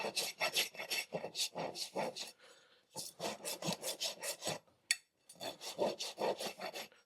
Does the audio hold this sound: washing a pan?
no